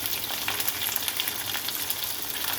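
Chicken frying in a pan with onions for a spicy chicken and capsicum dish, a steady, dense sizzle with crackling pops running evenly throughout at close range, no talking.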